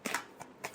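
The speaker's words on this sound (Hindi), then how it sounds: "Last shuffle." Tarot cards being shuffled by hand: a few soft, brief riffling bursts, quiet and close, with short gaps between them and no talk.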